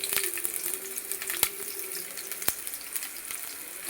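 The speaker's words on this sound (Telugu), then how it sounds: "కాస్త దూరగా వేయించుకుందాం." Dried red chilies and chopped onions fry in hot ghee, giving a steady, soft watery sizzle close by, broken by a couple of sharp pops.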